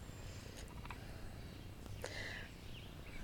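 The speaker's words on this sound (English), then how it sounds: "all kinds of bird chatter going on behind me." Faint chirps and short tweets from several birds come through a soft outdoor hiss, scattered and fairly distant.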